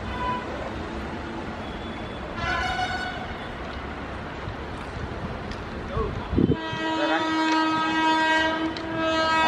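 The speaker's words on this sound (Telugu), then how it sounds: "బండి వస్తుంది, ఆగండి." A train draws near with a rising rumble, and its horn sounds in sustained harmonic blasts that grow louder toward the end, while faint voices are heard in the background.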